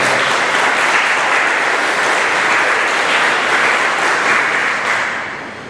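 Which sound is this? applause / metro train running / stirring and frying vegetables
applause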